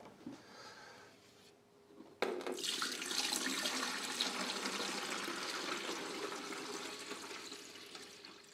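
Water pours from a jug into the tank of a Waterdrop Flash countertop water filter, a quiet trickle first, then a sudden full, steady gush that runs for several seconds.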